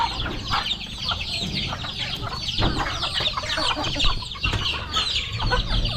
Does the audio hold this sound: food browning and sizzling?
no